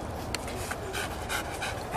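A working dog in antiterror K9 training in Israel pants rapidly and steadily, close up, with breathy rhythmic huffs over a noisy background.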